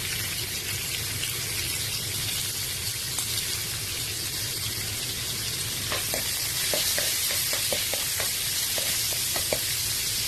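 Ginger and onion sauté in hot oil with a dense, constant hiss, and near the end a run of quick spatula taps and scrapes sounds against the pan, close and steady.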